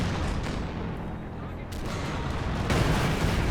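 Artillery shell explosions in Company of Heroes 2 during a 3v3 battle, a dense loud barrage of booms and gunfire with an especially heavy blast near the end, mixed with voice.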